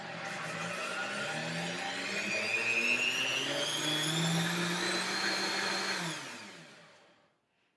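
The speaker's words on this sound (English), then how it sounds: "So I'm going to go ahead and start the blender." A Vitamix blender whirs steadily at high speed while blending a spirulina, wheatgrass, reishi mushroom and aloe vera tonic, its pitch rising slightly, then spinning down and stopping near the end; no talking.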